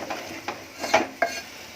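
Chopped onion being mixed by hand with spice powders, including a pinch of ajwain, in a bowl, giving soft, close rustling and scraping with three or four brief sharper clinks spaced irregularly over a couple of seconds.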